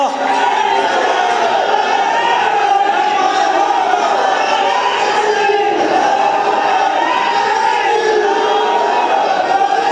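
A large crowd at a political rally raising a dense, continuous roar of chanting and shouting voices, loud and close, with no pauses across the whole stretch.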